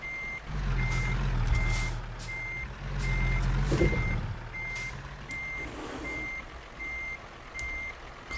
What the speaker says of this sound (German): Und zurücksetzen.